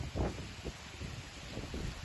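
Heavy rain driven by strong wind in Bondowoso's city centre during a storm that toppled trees: a loud, steady broadband roar with gusty swells throughout.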